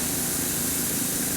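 A Badger airbrush with a 0.3 needle spraying thick Stynylrez primer gives a steady, even hiss of air and paint, close and continuous with no talk.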